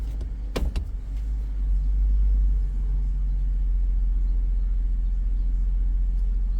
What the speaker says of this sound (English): We're going to start it up. Start the truck up.